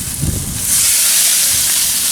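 Steak searing at close to 500 degrees on an Oklahoma Joe Tahoma 900 pellet grill, a brief thump from the flip followed by a loud, steady, hissing sizzle, with no voices.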